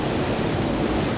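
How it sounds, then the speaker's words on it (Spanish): Air rushes steadily onto the fire of a traditional blacksmith's forge, giving a constant broad roaring hiss with no breaks. "vemos cómo le sopla aquí el aire al fuego"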